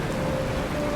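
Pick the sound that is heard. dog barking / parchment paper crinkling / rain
rain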